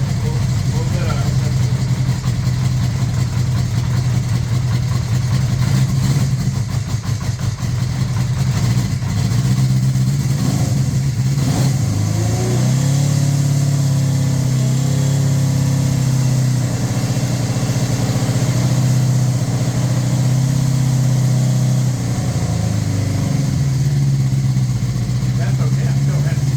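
A 1981 Honda CB650 motorcycle with freshly rebuilt Keihin VB carburetors runs close by, idling steadily with a few throttle blips and dips in engine speed, while someone talks over the running engine.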